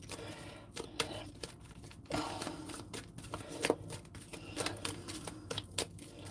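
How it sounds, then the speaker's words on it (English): A deck of slippery tarot cards being shuffled, with irregular close riffles, taps and crisp slaps scattered across several seconds at a modest level, no talking. "Cards are ready. I've given them a good shuffle"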